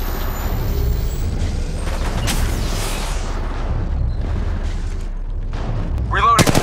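Gunfire in the mobile shooter Apex Legends Mobile pours out as a dense, loud, continuous barrage of rapid shots, ending in a quick burst of sharp clicking reports.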